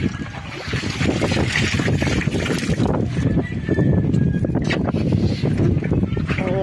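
Strong wind and rough waves battering a small boat out squid hunting, a steady loud rush of wind and splashing water close to the microphone, with a voice briefly heard over it.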